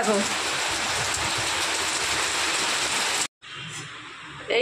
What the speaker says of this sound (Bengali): দেখো ফাইনালি বৃষ্টি নেমেছে।